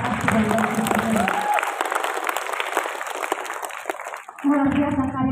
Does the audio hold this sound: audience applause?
yes